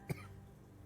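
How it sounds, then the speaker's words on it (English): A man gives a single short, faint cough in an otherwise quiet room, with a low steady hum behind it. "I don't know why I'm coughing so all of a sudden."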